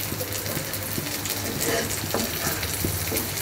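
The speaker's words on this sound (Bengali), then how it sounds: "এরপর পেঁয়াজটা প্রায় ভাজা ভাজা হয়ে গিয়েছে" Onions and sliced green chilies fry for a kakrol (spiny gourd) dish, a close, steady sizzle with repeated stirring scrapes and occasional louder crackles.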